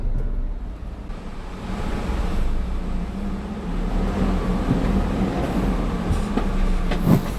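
A used 2.5-ton cargo box truck fitted with a lift accelerates on the road, its engine a loud, steady low drone with broad road and wind rumble throughout.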